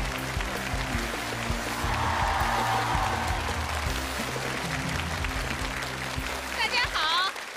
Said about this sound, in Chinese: 掌声有请黄小娟老师出场。